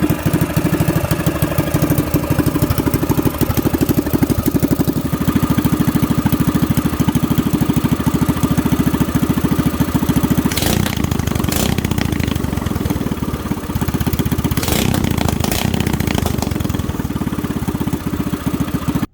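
A rebuilt go-kart engine fitted with a stage 1 kit runs steadily nearby, a loud continuous buzzing drone with a few brief revs partway through, no voices.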